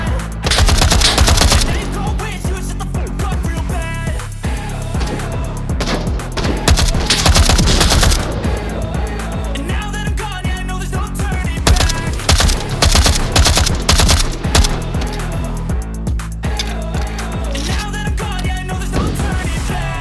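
AKM rifle fire in the VR shooter Onward, loud rapid bursts of automatic gunfire hammering almost nonstop with brief gaps, dense and close throughout.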